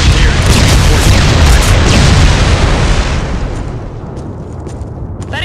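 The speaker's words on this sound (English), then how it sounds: "That explosion cleared out the way through that building over there." A large explosion in the PS2 game Killzone, a loud broadband boom followed by a rumbling roar that slowly fades and thins over several seconds.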